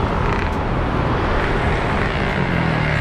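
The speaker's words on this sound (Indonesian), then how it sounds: "Sore ini agak berisik. Memang kayak ini lalu lintas." Busy Saturday-afternoon road traffic in Cibungur, Purwakarta, a steady broadband rumble of passing cars and motorbikes with constant hiss, continuous and fairly loud throughout.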